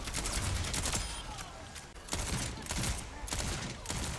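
Rapid gunfire from the Overwatch video game, dense bursts of automatic shots firing almost continuously at steady loudness, with brief pauses between volleys and faint talk underneath.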